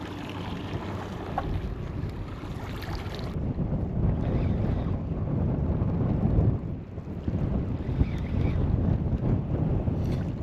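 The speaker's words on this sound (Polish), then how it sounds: "coraz mocniej wiać, wiatr się zmienił z drugiej strony" Steady, heavy wind roar buffeting the microphone outdoors on a shore while fishing for cod, continuous and loud with gusty low rumble throughout.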